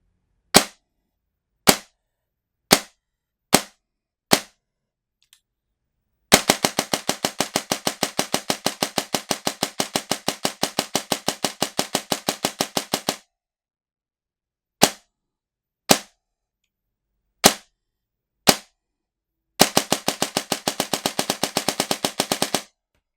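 A G&G ARP9 DSG airsoft gun dry firing with no BBs: five sharp single shots, then a long rapid full-auto burst of about seven seconds, then six more single shots and a shorter burst, loud and close.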